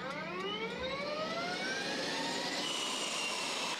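Super Hornet jet engine at takeoff at an airshow, a loud, steady, close roar with a whining tone that climbs in pitch as it spools up, running the whole time without pause.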